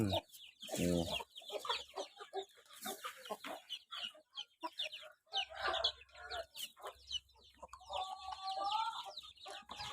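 Young gamecocks and chicks of a fighting-cock breed cluck and chatter at evening feeding, with busy overlapping calls close by and a longer rising call near the end.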